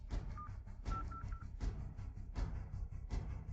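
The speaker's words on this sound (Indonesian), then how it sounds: "Telepon bapak sekarang." A telephone number is keyed in as a few short, clear touch-tone beeps, one alone and then a quick run of three, over steady background music with no talk.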